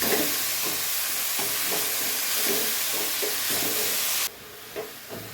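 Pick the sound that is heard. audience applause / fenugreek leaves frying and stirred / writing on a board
fenugreek leaves frying and stirred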